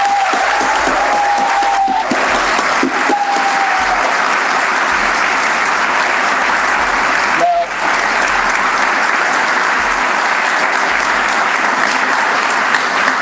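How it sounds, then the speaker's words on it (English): Audience applause fills a community reading event, a steady dense clapping from a large crowd that holds loud and even throughout, with a brief dip near the middle. "So let's clap again, please."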